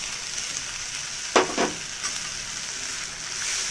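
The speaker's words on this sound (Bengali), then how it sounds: "মশলাটা খুব ভালো করে কষিয়ে নেব" Spices for potato curry frying in a pan, a steady hissing sizzle with a couple of short, sharp stirring scrapes near the middle, close up with no talking.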